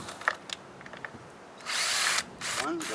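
A power drill backs out the screws holding the window motor to the old regulator of a 2009 Ford Expedition, heard as a few short, faint whirring bursts with one longer run between clicks and handling noises.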